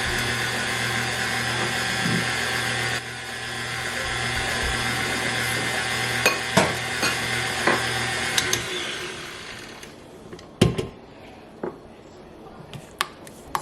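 An electric hand mixer whirs steadily through sweet potato pie filling for about eight seconds, then cuts off, leaving scattered knocks and scraping clatter in a quiet kitchen.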